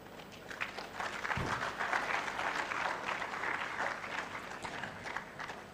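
An audience at a university talk applauds steadily, a dense wash of clapping that holds for several seconds at moderate distance before tapering slightly.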